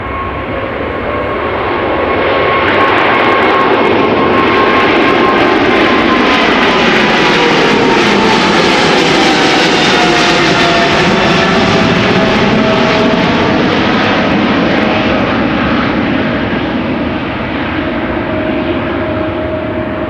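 Singapore Airlines airliner at Amsterdam Schiphol, a loud, close jet roar that builds over a few seconds, peaks with a sweeping Doppler tone shift as it passes, then slowly fades, with no speech.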